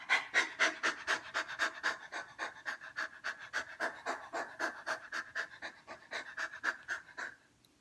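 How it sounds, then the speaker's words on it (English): Rapid, rhythmic mouth panting like a puppy's, done by a person as a yoga breathing exercise, runs steadily and close for several seconds before stopping. "This is where we look around and we're breathing in and out through our mouth."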